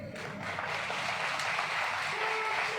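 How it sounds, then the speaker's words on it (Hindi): Applause from an audience at a civil aviation minister's public speech at an Udan Utsav event, a steady broadband clatter of many hands filling the whole stretch at moderate level, with no talk over it. "तालियां थोड़ी कम बजी।"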